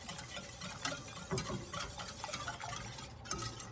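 Homemade banana cream pie filling stirred in a pot over a stove, soft, fairly quiet scraping and swishing of a spoon in an uneven rhythm, with no speech.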